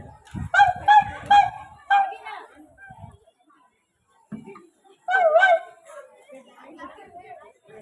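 A voice imitates a dog in a school lesson, giving several barking bursts close to the microphone, followed by a pause and another round of woofing yelps.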